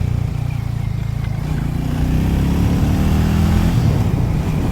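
A Hero Hunk 440 motorcycle engine accelerating on a test ride, its steady rumble rising in pitch as it revs up, close and loud with no voices.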